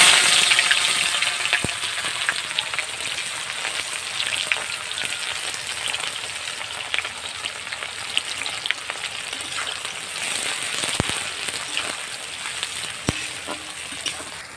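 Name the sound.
onions frying in hot oil with cinnamon, cardamom and cloves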